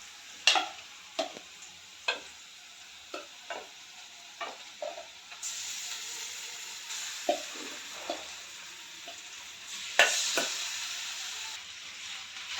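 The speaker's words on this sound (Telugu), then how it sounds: "సో ఇప్పుడు ఇందులో చికెన్ వేసుకోవాలి." Marinated chicken frying with browned onions in a pan, stirred with sharp spoon taps against the pan at irregular intervals over a faint, steady sizzle.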